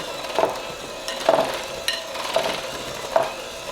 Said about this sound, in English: you just want to mix them together until it's well combined